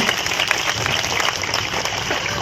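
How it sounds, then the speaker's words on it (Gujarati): A village crowd at a welcome rally for a Lok Sabha election candidate in Khadki claps loudly and continuously, a close, dense burst of applause. "સૌને જોરદાર તાળીથી બધા વિનંતી છે"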